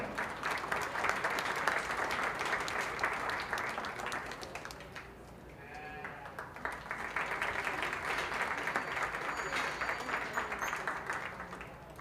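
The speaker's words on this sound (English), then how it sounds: "Let's give him a round of applause." Applause rings out at a junior fair sheep show, a sustained crowd clapping that dips briefly in the middle, then swells again and carries on steadily, moderately distant.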